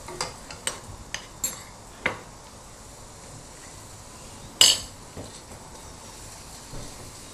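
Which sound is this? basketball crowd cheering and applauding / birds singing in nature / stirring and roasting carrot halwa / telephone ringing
stirring and roasting carrot halwa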